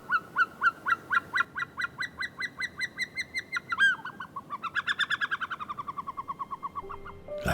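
Snowcocks in the Lesser Caucasus mountains give a long series of loud, rhythmic honking calls that quicken and then run into a second faster bout, carrying clearly through open mountain air without any voices.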